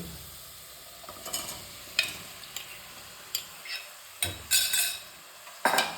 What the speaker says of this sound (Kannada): ನಾವು ಬೇಯಿಸಿಟ್ಕೊಂಡಿದ್ದೀವಲ್ಲ ಕಾಬೂಲ್ ಕಡಲೆ, ಅದನ್ನು ಹಾಕೋಣ.